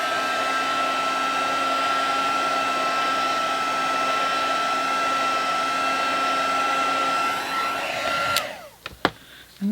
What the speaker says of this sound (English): Grab your heat tool and heat that up.